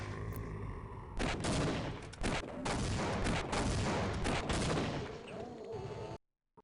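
Sustained gunfire in the Half-Life 1 video game, a dense continuous burst of loud shots lasting about five seconds before cutting off abruptly, with no talk over it.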